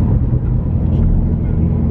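A Ford Mustang Cobra engine drones loud and close from inside the car under load, a steady low rumble that fills the whole stretch, with voices murmuring over it.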